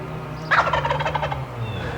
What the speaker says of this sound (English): that's what he's doing by gobbling